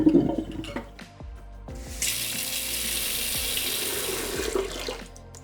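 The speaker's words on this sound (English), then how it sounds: "we're now going to flush the filter through with clean water just to remove any of the excess" Clean water runs and splashes through a LifeSaver Wayfarer portable water filter being flushed, a steady close rushing stream lasting several seconds after a few brief knocks and clunks, with no talking.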